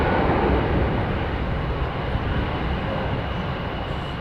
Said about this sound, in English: Big old 777, man.